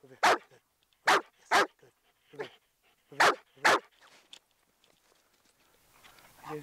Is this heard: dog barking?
yes